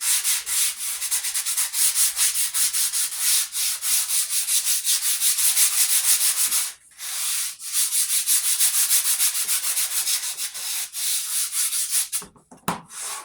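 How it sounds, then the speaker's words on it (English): Electric sander rubbing steadily across a canvas with a dollar-store stencil, a loud, close, continuous scratchy whir with pulsing texture, briefly lifted off twice before carrying on. "this is my sander"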